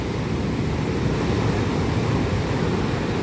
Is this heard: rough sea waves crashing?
yes